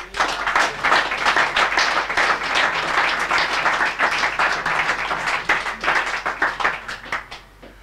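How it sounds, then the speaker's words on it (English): Jazz club audience applauding for Peter at the Bass Clef in 1985, lively, dense clapping from a close crowd that stays full for several seconds before loosening into scattered claps. "A round of applause for Peter."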